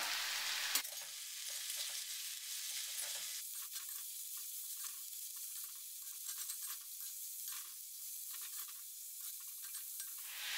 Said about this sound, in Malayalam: ഇത് നന്നായിട്ടൊന്ന് ഇളക്കാം